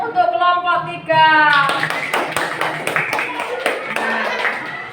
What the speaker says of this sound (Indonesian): Mari kita berikan tepuk tangan untuk kelompok 3.